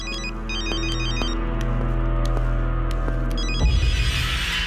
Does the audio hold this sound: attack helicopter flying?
no